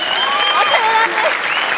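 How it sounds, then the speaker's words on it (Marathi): A studio audience at a Marathi comedy show claps loudly to welcome the chief guest onstage, giving a thick, continuous burst of applause with some voices and whoops riding over it. "जोरदार टाळ्या."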